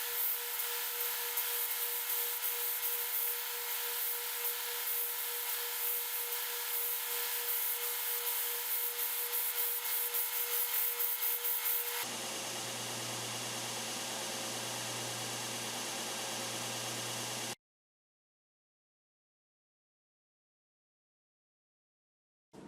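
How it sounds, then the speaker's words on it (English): An edge sander grinds steadily against the edge of an ultra-thin wood laminate disc, then shifts to a lower, rougher hum before cutting off into silence. "I'll be sanding it on my edge sander down to the line to get it smooth."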